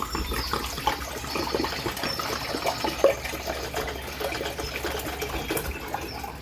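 Purified water pouring steadily into a cooking pot, a continuous close splashing and gurgling stream with no talk.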